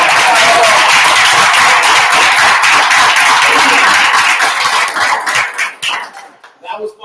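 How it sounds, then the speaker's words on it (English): Applause from an audience at a young professionals' Toastmasters club meeting, dense steady clapping that stays loud for about five seconds, then thins into scattered claps as it dies away. "One big round of applause. One more time."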